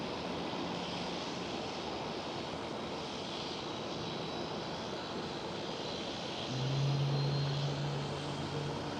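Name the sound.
Boeing 777-300ER taking off from Schiphol runway 24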